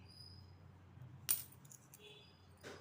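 An old 1988 Indian coin from the Hyderabad mint drops onto a hard surface with one bright metallic clink, followed by faint ringing and a soft second tap, quiet and close.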